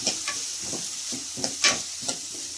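Curd curry with turmeric is stirred in a pan in a regular rhythm of soft scraping strokes over a steady background hiss.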